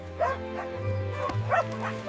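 A dog in a park gives a few short, close barks and yips in quick succession over a steady low hum.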